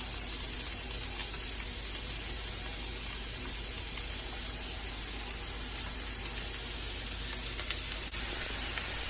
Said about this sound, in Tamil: கட் பண்ண வெங்காயம், அதுக்கப்புறம் பச்சை மிளகா, கருவேப்பிலை எல்லாத்தையும் போட்டு நல்லா வதக்கிக்கலாம்.